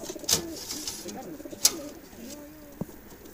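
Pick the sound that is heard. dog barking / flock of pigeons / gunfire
flock of pigeons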